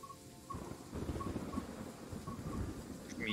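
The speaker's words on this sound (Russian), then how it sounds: "Блин, в игре под музыку дождик пошел." Rain with low rumbling thunder plays in the Train Sim World 3 video game menu, a steady wash of rainfall under distant rolling rumbles, with soft background music and no talk.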